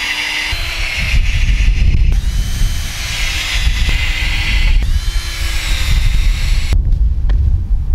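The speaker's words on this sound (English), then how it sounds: "So I'm gonna go ahead and put the wood screws in" A power drill drives oversized wood screws into a tubeless bicycle tire, its motor whining steadily at close range for the whole stretch, with short pauses between runs.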